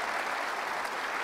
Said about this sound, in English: yeah, he deserves applause for that.